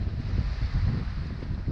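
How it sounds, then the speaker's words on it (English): Wind of 15 to 17 knots buffets a sailboat on a lumpy Lake Michigan, a loud, low, steady rumble of gusts against the microphone with water sloshing beneath. "So far we're seeing roughly 15, 17 knots of wind."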